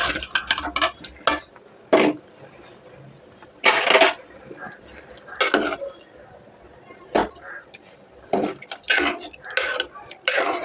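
Boiled raw banana pieces drop into a pot of simmering tamarind broth, making scattered clattering bursts of pot-and-utensil noise at close range. Speech can be heard in the clip.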